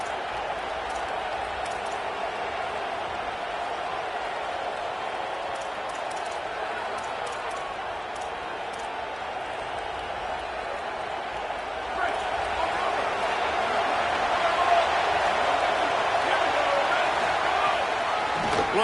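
Stadium crowd roaring in a college football video game, a broad continuous wash of noise that swells louder toward the end, heard alone without commentary.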